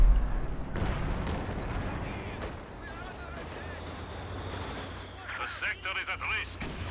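Heavy mortar indirect fire in a Company of Heroes 2 match, with deep thuds and scattered gunfire under steady commentary, and a busier burst of battle noise near the end.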